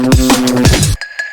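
Serum wavetable synth oscillator pitched two octaves down with an LFO on fine tune, giving loud, deep wobbling notes that break off abruptly into a few faint higher blips.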